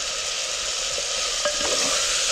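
Green peas sautéed in a pan with soaked rice for a Gudi Padwa meal, a loud even sizzle with a couple of light spatula scrapes near the middle.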